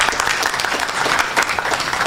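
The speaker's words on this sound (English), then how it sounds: "Let's first have a round of applause for the organizers" A conference audience gives a short burst of dense, steady applause that stays close and loud from start to finish.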